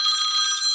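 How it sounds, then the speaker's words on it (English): A bell rings in a steady, bright metallic tone for under a second, heard alone and fairly loud. "sorry about that, the bell's ringing"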